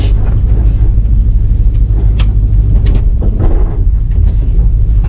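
A 1974 Plymouth, revived after sitting for 20 years, rumbles steadily while driving, its engine and road noise close and constant with some wind buffeting.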